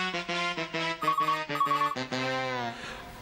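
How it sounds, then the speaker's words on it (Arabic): A telephone rings continuously in a domestic scene from a Syrian TV comedy, its repeated electronic melodic ringtone pattern running loud and alone with no talk. "لك ما تردوا على التليفون."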